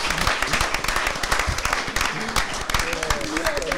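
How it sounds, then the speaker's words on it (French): Audience applause with rhythmic clapping fills a French television game show arena, loud and steady, while a host's voice talks over it. "Applaudissez très fort pour lui."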